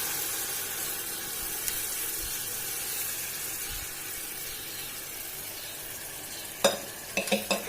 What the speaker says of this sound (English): So now I'm going to add my cooked dal into this.